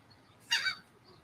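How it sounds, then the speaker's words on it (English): A bird gives a single short, harsh honk, fairly close and clear over a quiet background. "That bird's giving him hell"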